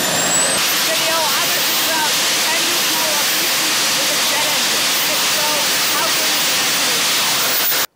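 Small jet engine idling at 40,000 RPM, a deafening, roaring hiss with a faint high whine, steady and close for about eight seconds before cutting off abruptly; a voice talks over it.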